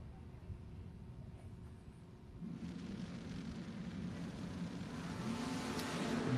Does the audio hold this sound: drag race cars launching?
yes